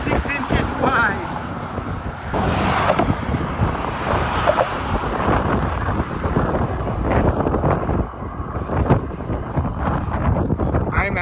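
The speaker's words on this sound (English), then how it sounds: "It's so windy up here." Strong wind buffeting a microphone on a bridge during a bike ride, with roaring gusts over passing traffic and engine noise, loud and continuous, with a voice talking over it.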